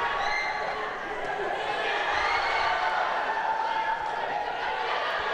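Arena crowd roaring steadily at an amateur flyweight boxing quarterfinal, Philippines against Indonesia at the SEA Games, a loud continuous wash of cheering and chatter with no distinct breaks.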